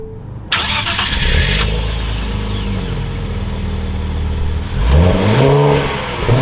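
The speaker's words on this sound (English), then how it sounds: "now sitting inside the 2024 Nissan Z Performance, keep my foot on the clutch, you can fire it up" A 2024 Nissan Z Performance starts with a sharp crank and catch, settles into a loud, close idle, then gives a quick rev near the end.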